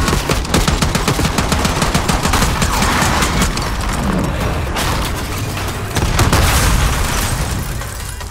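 Gunfire in the Black Ops 6 campaign, with dense rapid automatic bursts and booming shots rolling on without a break, loud and close, with a faint voice briefly under it.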